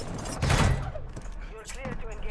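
An RPK machine gun fires in a video game, a short dense burst of shots standing out loudly before fading, with a person talking over and around it.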